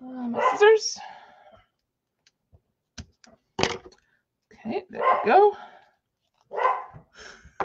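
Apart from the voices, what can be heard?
dog barking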